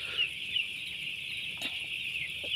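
Six-day-old chicks in a poultry coop keep up a constant, dense chorus of high peeping, steady and moderately loud throughout, with no talk.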